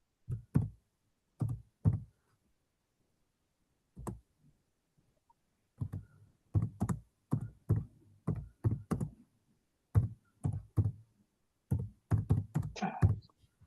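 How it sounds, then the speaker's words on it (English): Clusters of quick, close taps on a computer keyboard come in short bursts separated by pauses, fairly loud against an otherwise quiet background. "I think I hear the sound of computer keys."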